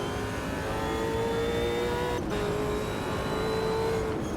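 V8 supercar engine in the racing game Automobilista 2, a continuous loud, droning whine with steady engine tones and brief gear-shift dips, heard alone without voices.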